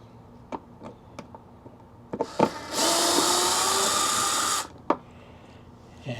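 A power tool drives out T15 screws on a Can-Am Spyder, running as one loud steady whine of about two seconds, with short clicks and taps before and after.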